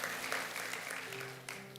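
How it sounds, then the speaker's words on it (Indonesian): Congregation applauding for God during a church service, a brief steady patter of clapping with a sustained tone underneath, fairly soft and distant. "Berikan tepuk tangan buat Tuhan"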